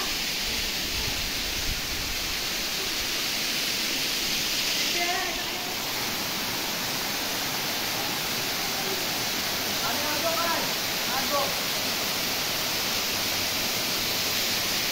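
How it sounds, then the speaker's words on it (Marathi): A small waterfall in the Konkan countryside near Devgad, a steady broad rushing roar of falling water close by, with someone speaking briefly over it. "छोटा आहे हा धबधबा, ठीक आहे, चांगलं आहे."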